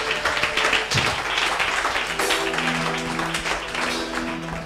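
A church congregation applauding and cheering for Jesus, a dense continuous wash of clapping with raised voices, steady and close throughout.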